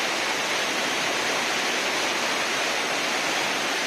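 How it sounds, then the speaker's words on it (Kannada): Water rushing through the gates of the Nekkarekalaya dam during the rains, a loud, continuous broadband roar that stays steady and unbroken throughout, heard alone with no voices. "ಇಂಥ ಶಬ್ದ ನೋಡಿ ನೀರಿನ ಒಂದು ಶಬ್ದ ಜಳ ಜಳ ಜಳ"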